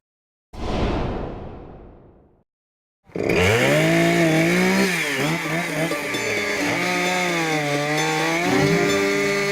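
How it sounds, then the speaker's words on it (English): A chainsaw revs up briefly and dies away, then after a short gap a loud saw roars continuously outdoors, its pitch wavering as it bites into a fallen red cedar. "Loud, rumbling chainsaws work diligently around a fallen red cedar."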